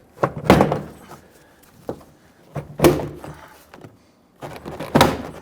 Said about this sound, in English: give it kind of some sharp pulls out. Work your way around the perimeter.